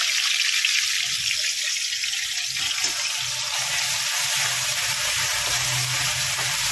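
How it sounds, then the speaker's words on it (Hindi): A paste of garlic, onion, chili and ginger fries in oil in a pan, a bay leaf added first, giving a steady, close hiss and sizzle throughout with faint low clatter underneath and no talking. "उसमें मैंने तेज़पत्ता डाल दिया है और उसमें अब ये लहसुन, प्याज, मिर्चा, अदरक का जो मैंने पेस्ट तैयार किया है डाल दिया है।"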